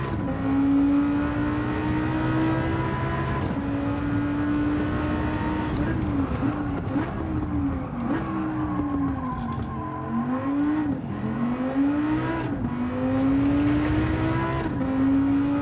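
A race car engine in a video game revs and drones continuously, its pitch rising and falling through gear changes and turns, with faint tire squeal and no speech.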